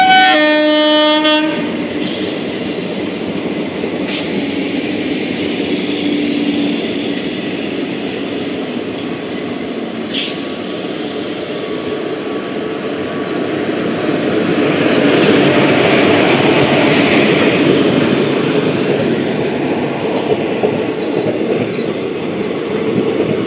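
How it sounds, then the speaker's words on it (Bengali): The 13105 Sealdah–Ballia Express, an Indian passenger train with sleeper coaches, thunders past close by with a loud steady rush and rattle of wheels, a horn blast at the start and brief high squeals partway through. "13105 শিয়ালদা বালিয়া এক্সপ্রেস।"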